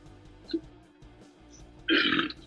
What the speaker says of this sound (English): Burp. Excuse me.